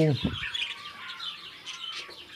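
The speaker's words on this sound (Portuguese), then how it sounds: "a maioria aqui dos periquitos australianos de reprodução em gaiola, colônia" Budgerigars in breeding colony cages chirp and tweet in quick, bright bursts, a busy cluster of small calls close by, with a voice briefly at the start.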